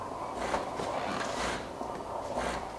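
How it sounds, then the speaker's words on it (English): A Wirsh Home Barista Pro bean-to-espresso machine runs water through itself to cool down, giving a steady hissing, gurgling wash at moderate level with faint pulsing swells, no voices over it. "Now you can hear the machine running right now."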